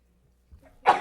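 A single sharp sneeze bursts out near the end, preceded by a soft intake of breath, close and fairly loud against a quiet school board meeting room.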